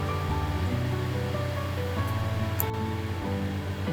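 Vinegar pours from a gallon container into water, a steady, continuous splashing rush that runs unbroken throughout, close and fairly loud.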